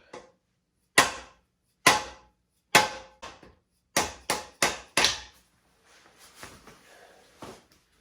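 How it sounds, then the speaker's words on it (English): Sharp rubber hammer taps on a freeze plug in a Jeep 4.0L engine block, single and doubled strikes with short pauses, loud and close, followed by a few softer light knocks. "using a rubber hammer, I'll just start tapping this out."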